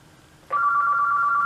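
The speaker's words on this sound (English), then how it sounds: "there goes the phone again" An electronic phone ring starts abruptly after a brief quiet and holds as a steady, warbling tone, fairly close and clear.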